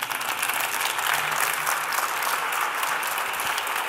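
An audience at a live cooking event gives a steady burst of applause, dense even clapping, with no break across the whole stretch.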